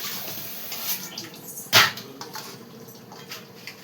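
Leafy greens, mint and coriander, are washed to get the soil off, with soft, continuous splashing and swishing of water close by and one sharper splash partway through.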